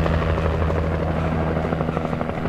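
Continuous loud helicopter rotor drone from the video game Alan Wake, a close, even chopping hum sustained from start to finish with no pauses.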